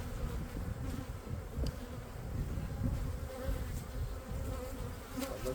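Honey bees hum and buzz steadily around an open beehive while frames are worked during a brood box addition, a dense close swarm drone with faint knocks and no voices.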